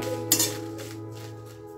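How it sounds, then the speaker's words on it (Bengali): Dried red chillies being fried for a Bengali olive pickle are stirred in a pan, with a couple of sharp metallic clinks and scrapes over a low, faint sizzle. "শুকনো লঙ্কাগুলো একটু ভেজে নিচ্ছি।"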